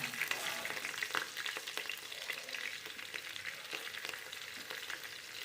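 Slit green chillies frying in a pan for ghee rice crackle and spit steadily close by, a dense, even sizzle with faint popping and occasional stirring scrapes throughout.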